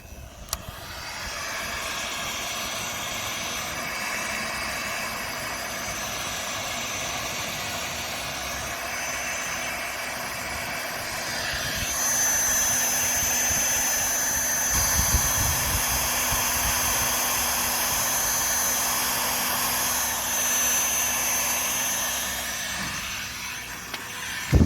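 A heat gun blows a steady, loud roaring hiss while shrinking heat-shrink tubing over trailer light wiring during an LED upgrade; the airflow sounds alone and intensifies slightly partway through.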